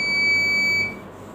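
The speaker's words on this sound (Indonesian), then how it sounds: "maka buzzer akan berbunyi lagi" A digital prayer-time clock's buzzer sounds a steady electronic tone continuously for about a second, then cuts off, leaving quiet room noise.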